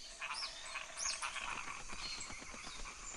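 Frogs croaking in the African savanna, faint and distant, with scattered short croaks and chirps over a soft background hiss of outdoor ambience.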